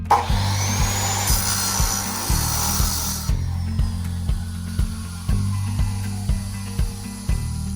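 A hand saw cuts through a brass pressure relief valve salvaged from a water heater, in steady back-and-forth strokes about once a second, close and loud, with a brief hissy scrape near the start.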